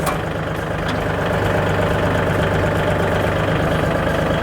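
A Kubota L3208 tractor from the 2014 model year idles without revving, a loud, close, steady diesel rumble that holds at an even pitch throughout, with no voices over it.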